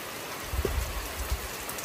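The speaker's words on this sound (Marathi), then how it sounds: "लय पाऊस आलाय, झपाटा झाला डायरेक्ट" Heavy monsoon rain pours down on a mountain trekking trail under dark clouds, a dense steady hiss with a few low thumps from drops or gusts close to the microphone.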